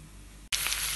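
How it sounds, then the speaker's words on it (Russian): Onion sizzling in vegetable oil in a pan, a sudden bright burst of hiss as it hits the hot oil, steady and close. "отправляем обжариваться на растительном масле"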